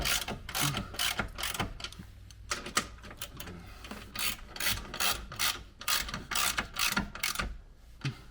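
A ratchet clicks in quick repeated bursts while bolts are tightened on the Easy Fit undershield skid plate of a Land Rover Defender, close and loud with short pauses between runs.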